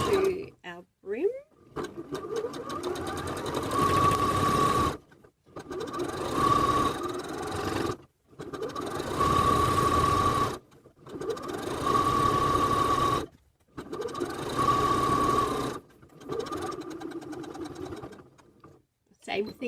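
A sewing machine stitches around the brim of a bucket hat in five or six steady, loud bursts, each a few seconds long, with short pauses between runs.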